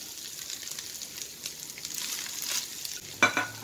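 Ground meat and sliced zucchini sizzling in a frying pan, a steady crackling hiss close up, with a louder clatter of stirring near the end and no talking.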